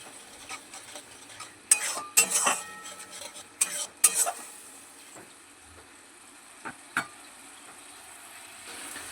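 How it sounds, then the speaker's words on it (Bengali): Spices frying in oil in a pan for a potato, pointed gourd and soya chunk curry, low sizzling under loud bursts of a spatula scraping and clattering against the pan. "এবারে সমস্ত মশলাগুলো খুব ভালোভাবে কষিয়ে নেব।"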